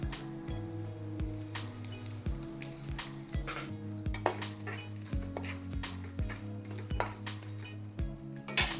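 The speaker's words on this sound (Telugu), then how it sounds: "ఇప్పుడు తాలింపు గింజలు వేసుకుందాం ఒక చెంచా పసుపు వేసుకుందాం అలానే కొంచెం ఇంగు వేసుకుందాం" Tempering seeds, turmeric and asafoetida crackle in hot oil in a kadai with a close, busy sizzle and sharp pops throughout, plus a rhythmic low hum.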